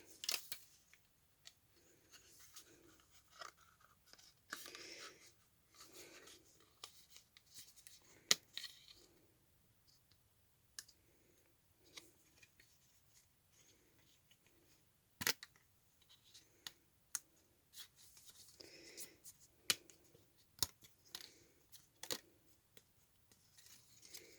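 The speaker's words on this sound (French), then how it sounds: "J'ai décidé de donc découper, ma découpe dans mon papier." Scissors snip through paper while a Halloween-themed greeting card shape is cut out, giving a quiet, irregular run of short crisp cuts with occasional louder clicks, close by and without talk.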